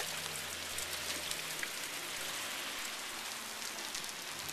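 Steady rain pattering on surfaces around a house with clogged gutters, water pooling and running in a continuous dense hiss, moderately close with no talking.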